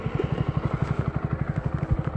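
A Honda CB125R motorcycle idles just after starting, a close, rhythmic low thumping pulse of single-cylinder firing, steady and even throughout.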